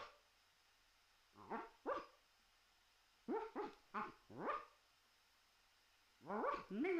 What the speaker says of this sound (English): Let's talk to the dog here.